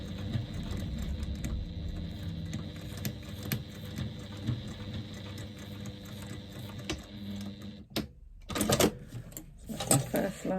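A sewing machine runs steadily as it stitches across the straps of a lambda weave bag, a quiet, continuous mechanical whir with rhythmic clicking, then stopping into a few sharper handling knocks near the end.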